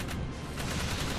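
Very rapid weapon fire in the video game Jak 3, a dense continuous stream of shots that runs steadily and fairly quietly throughout.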